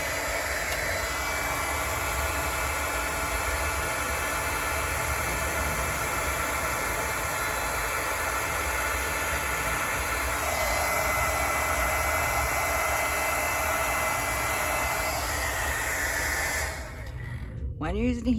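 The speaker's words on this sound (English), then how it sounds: "When you're using a heat gun, make sure everything is melted" A heat gun runs in a steady, loud blowing hiss, melting embossing powder on a snowflake card, then cuts off abruptly near the end with a brief clatter.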